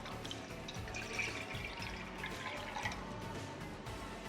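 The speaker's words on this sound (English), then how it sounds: "I'm gonna pour in 550 milliliters of water" Water, 550 ml, poured into a cooking pot for Korean instant ramen, a steady splashing and trickling stream that is faint and continuous throughout, with no talking over it.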